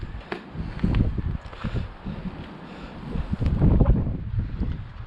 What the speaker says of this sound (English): It's very, very windy, very cold today, very wet